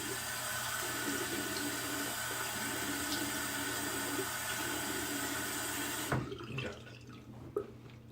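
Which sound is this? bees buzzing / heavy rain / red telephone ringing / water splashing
water splashing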